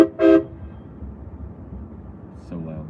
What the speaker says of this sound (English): Yeah, I got a train horn on my truck, if y'all don't know.